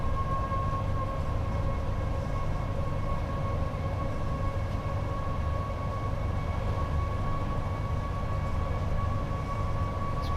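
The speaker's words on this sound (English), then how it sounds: "It's a very quiet train" A Class 87 electric locomotive runs on the West Coast Main Line between Preston and Carlisle in Train Sim World 5, a steady, even cab rumble with a thin sustained tonal whine over it, unbroken for the whole stretch.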